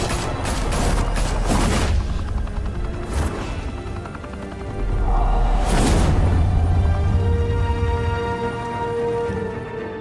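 Gunfire erupts in a Batman Telltale game shootout at a high-rise mafia club in Gotham, with booming blasts and whooshes layered over a dense, continuous roar of action that surges midway.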